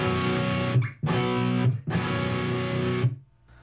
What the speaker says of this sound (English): You take the root, the fifth, and you add the ninth on top